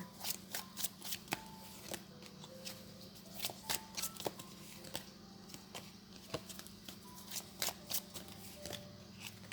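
Tarot cards are shuffled at close range in a quiet room, giving a steady run of soft riffling and sharp card slaps in irregular bursts.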